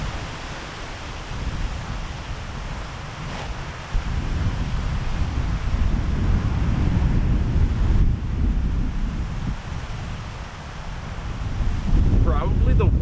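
Strong gusting wind buffets the microphone outdoors on a disc golf course, a loud continuous low roar that swells and eases, with a faint voice briefly near the end.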